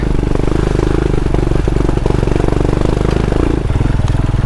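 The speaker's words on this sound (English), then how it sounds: "Here I go with my engine playing up." Royal Enfield motorcycle engine running rough on a green lane ride, a loud close uneven thumping idle that lurches and stumbles around the middle before settling back into its lumpy beat.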